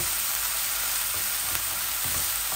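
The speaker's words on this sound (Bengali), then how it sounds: "গ্রেট করা অনিয়নগুলো এইভাবে ফুটে উঠে।" A steady, dense sizzle of grated red onion frying in overheated oil, heard close, with faint stirring clicks and no voices.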